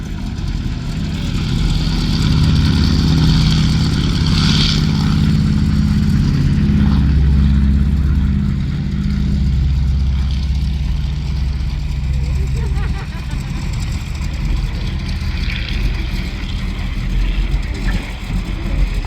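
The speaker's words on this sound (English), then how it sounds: "And here it is, on the roll, the Avro Anson Mk1." A twin-engine Avro Anson Mk1 rolls for takeoff at the RAF Cosford airshow, its engines giving a loud, broad, continuous roar that swells and fades slightly as it moves along the runway.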